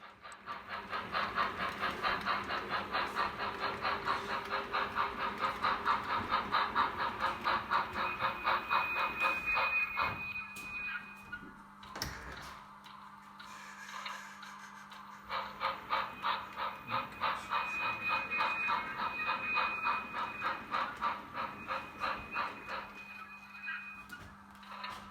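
A model railroad train runs and picks up five boxcars waiting at a grain elevator, making rhythmic rolling clicks in two long stretches separated by a brief quieter pause.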